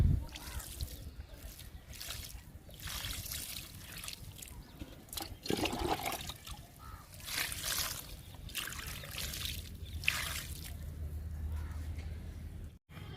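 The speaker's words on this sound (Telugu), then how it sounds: "పొట్ల విత్తనాలకి వాటర్ ఇస్తున్నా." Water pours and splatters in repeated bursts onto snake gourd seeds sown in a soil-filled tub close by, a steady low rumble underneath and no talking.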